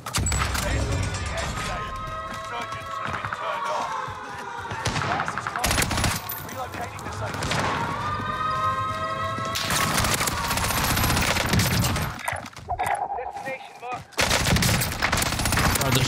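FFAR 1 assault rifle fire in the video game Warzone, rapid sustained bursts of automatic gunfire with short pauses between sprays, loud and close over game ambience.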